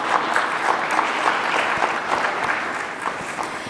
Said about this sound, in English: So a huge round of applause again for the panelists.